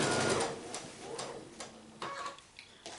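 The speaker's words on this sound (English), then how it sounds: "I'm going to keep sewing because it does make it go a little faster if I continue sewing." A home sewing machine stitching quilt pieces for a Hunters Star block, running in a steady fast mechanical chatter with some rhythmic ticking, close and fairly loud, with no talking.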